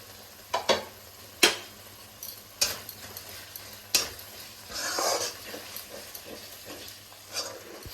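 Pre-fried onions (birista) tipped into a sizzling pan of potato-paneer biryani with kewra water, stirred with a few sharp scrapes and clinks of the utensil against the pan over a steady low frying hiss, close and fairly quiet.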